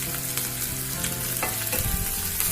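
Chopped shallots and slit green chilies frying in a pan over a medium flame for a Kerala cabbage thoran, a steady close sizzle with occasional stirring scrapes and clicks.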